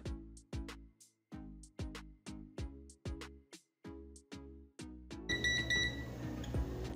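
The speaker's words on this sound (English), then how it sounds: "the multimeter beeps because it goes over 10 amps here" A multimeter's rapid series of sharp electronic beeps, signaling current over 10 amps while testing a 12V 20A switching power supply, repeats in a steady rhythm, about a dozen pulses, then gives way to a denser, buzzing electrical hum.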